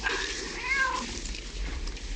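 A cat meows in a 1980 film scene, a drawn-out, slightly wavering caterwaul in the middle of the clip, moderately close over a steady low background rumble.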